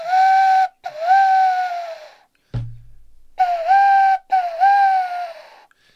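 An owl call imitated on an owl whistle: two long, loud hooting whistle phrases with a brief gap and a low thump between them, close and clear with no talking.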